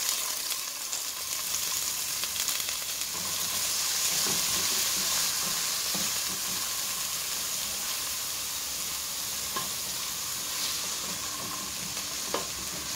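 Garlic and onion sauté in a pan with a continuous, even sizzle and hiss. Faint stirring scrapes sound now and then, and no voices are heard.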